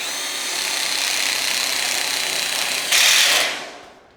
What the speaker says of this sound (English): screw these welded plates in